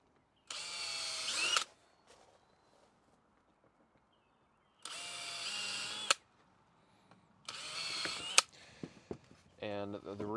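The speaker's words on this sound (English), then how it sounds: "I have my countersink bit on my drill. So drill's a pilot hole, then countersinks for the nail head" A power drill fitted with a countersink bit boring pilot holes into PVC for a window box, three separate whirring bursts of about one to one and a half seconds each, separated by quiet pauses with faint handling noise.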